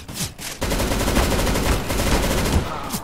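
Sustained rapid automatic fire from a suppressed MP5SD submachine gun in CS:GO, a dense continuous burst after a brief pause, loud and close.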